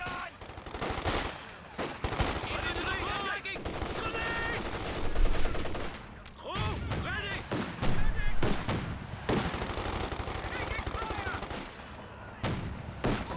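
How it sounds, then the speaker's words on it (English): Walking Stuka rocket barrage in Company of Heroes 2, a dense run of loud rocket launches and explosions in repeated bursts, mixed with battle noise and a commentator's voice. "That's a pretty good first barrage for the walking Stuka."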